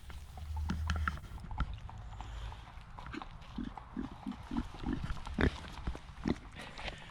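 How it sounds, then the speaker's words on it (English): Pigs foraging for fallen acorns during pannage in the New Forest, giving a run of short grunts and snuffles at close range amid rustling, with no speech. "And then I came across some pigs in pannage."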